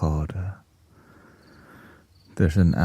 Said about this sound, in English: called Ambient, an atmosphere, and there's literally a cricket sound